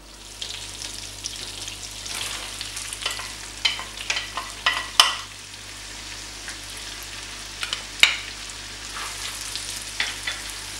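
Leek and garlic cloves frying in melted butter in a pan, a soft continuous sizzle broken by repeated scraping stirs and clinks of the utensil against the pan.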